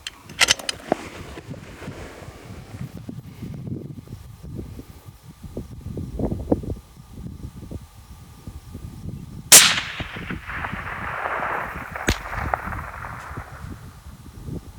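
A rifle shot fired at a 100K play button target a mile away cracks sharply once near the middle, its report trailing off, surrounded by outdoor wind and handling noise.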